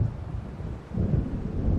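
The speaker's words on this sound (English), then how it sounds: "It seems there's a storm coming." A gathering thunderstorm in the game Alan Wake rumbles low and continuous, a deep roll of thunder with wind swelling and easing briefly.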